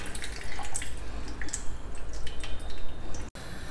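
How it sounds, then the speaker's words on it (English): Soaking water being drained off soaked little millet, a steady close trickle and splash of water pouring out for most of the clip, with scattered drips, stopping abruptly near the end. "So now I am going to drain out this water."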